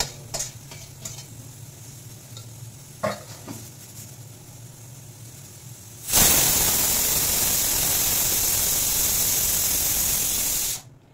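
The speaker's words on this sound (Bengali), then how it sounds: "একটা সিটি হয়ে গেল, এবার গ্যাস অফ করে কিছুক্ষণ পর আমি নামিয়ে নেব" A pressure cooker holding chicken sits on a gas stove. After a few faint clinks, it lets out one loud, steady hiss of steam that lasts about five seconds and then cuts off abruptly.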